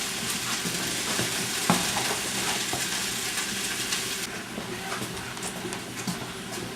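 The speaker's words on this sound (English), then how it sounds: "I got the peppers and onions simmering in here" Peppers and onions simmer and sizzle in a pot as a utensil stirs them, making a dense, continuous frying hiss with scraping stirs and a few clanks, close and steady, with no talking.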